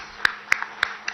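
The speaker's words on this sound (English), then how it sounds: "I think you deserve a much, much bigger round of applause than anybody else" A few isolated hand claps at a public event in Hyderabad with Minister KTR, four or five sharp, separate claps spaced irregularly over a quiet background, sounding like a small scattered round of applause.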